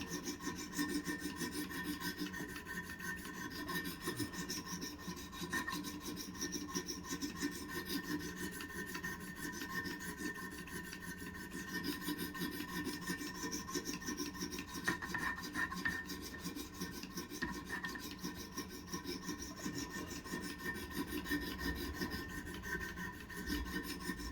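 Steady rasping strokes of a blade being sharpened on a Wicked Edge Pro-Pack III guided sharpener, a continuous close scraping rub with no pauses and no talk.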